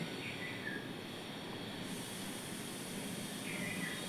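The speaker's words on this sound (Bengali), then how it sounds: "ওই তেলের মধ্যে দিয়ে দেবো কেটে রাখা পটলগুলো" Sliced pointed gourd (potol) frying in hot oil, without salt or turmeric, for a potol chingri dish, giving a steady, close, even hiss of sizzling that holds unbroken throughout with no voices.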